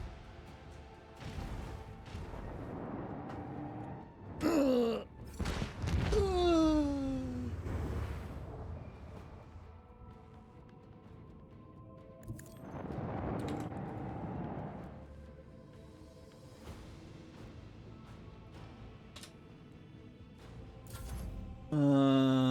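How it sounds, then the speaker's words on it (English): Ship torpedo launch in the space combat of the video game Rogue Trader: several heavy crashing booms and whooshing blasts with sweeping tones, spread across a quiet stretch, game sound alone without talk. "Commence torpedo launch."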